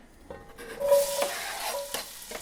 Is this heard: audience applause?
no